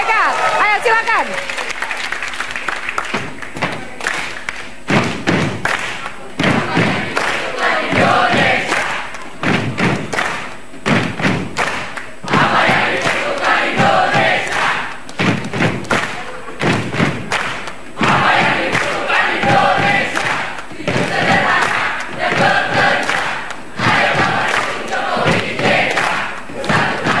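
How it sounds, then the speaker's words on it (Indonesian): A large crowd of Jokowi-JK campaign supporters at a rally cheering, clapping and chanting in rhythmic bursts with heavy thumping beats, loud and continuous, with voices shouting over the din. "Kita lihat bagaimana semangat dari pendukung dan juga tim sukses Jokowi JK"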